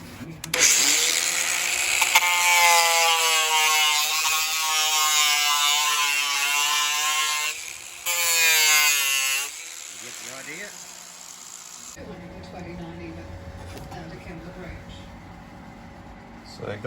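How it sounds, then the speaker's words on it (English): An angle grinder whines loudly and steadily with a sanding disc against aluminium, dropping briefly, surging again, then cutting off to quieter background noise. "sanding disc and a grinder."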